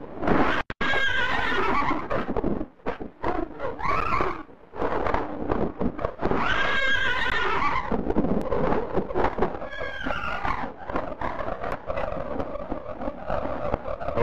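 A horse in a 1930s film neighs loudly and repeatedly, with long shrill whinnies and snorts alongside scuffling hoof and stable noise, no talk over it.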